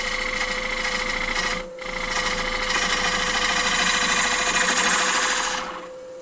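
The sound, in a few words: bowl gouge cutting wood on a lathe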